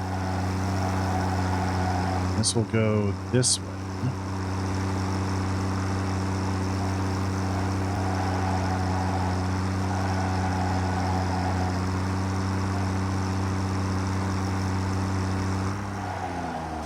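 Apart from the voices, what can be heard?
tractor engine driving in video game Satisfactory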